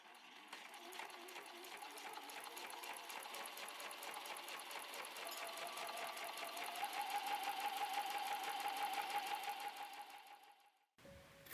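A sewing machine stitches large fabric pieces together for a small patchwork pouch, running in a steady, fast, close whir for about ten seconds before stopping abruptly.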